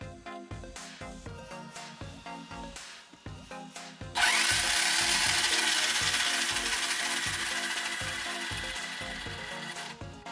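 An Arrma Outcast RC car gets a four-wheel spin test: a string of short clicking, ticking bursts, then a sudden loud, high electric-motor whine that holds steady and fades only slightly over several seconds, close by with no talking.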